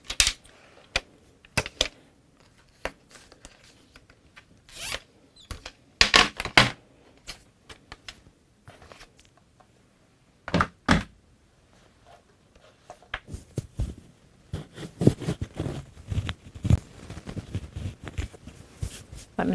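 Scissors snip through paper during papercrafting, making sharp, irregular close-up clicks and crisp cuts that come in scattered bursts over a quiet background, with no voices.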